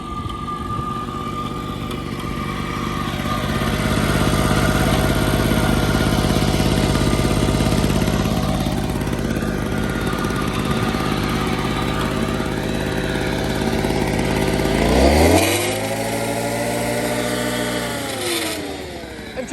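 A two-stroke edger engine runs at a steady buzzing idle, then revs up, with the pitch climbing sharply near the end before it settles back down. It sounds close and fairly loud.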